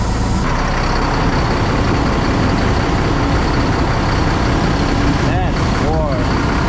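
A diesel truck engine idling on a Wisconsin farm at -20°F, a loud, steady, close rumble throughout, with two short rising squeaks near the end.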